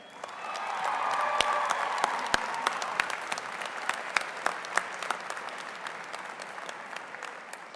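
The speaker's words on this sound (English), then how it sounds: "let's hear a big round of applause for all those people who have helped us just to get onto this stage today" A high school graduation crowd applauds, a dense wash of clapping that swells and then thins out into scattered individual claps near the end.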